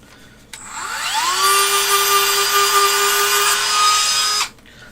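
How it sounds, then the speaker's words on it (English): Dremel rotary tool grinding a hobby model, a loud, steady high-pitched whine that spins up quickly, holds for about four seconds and then cuts off abruptly, heard alone at close range. "Dremel again."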